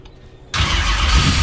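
Old race car engine catching after cranking, a sudden loud roar bursting in after a quiet moment and holding at full volume, close by.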